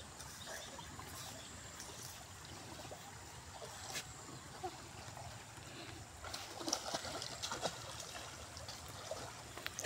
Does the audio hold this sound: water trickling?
yes